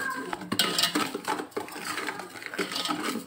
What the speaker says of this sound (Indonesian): Ini kita aduk dulu.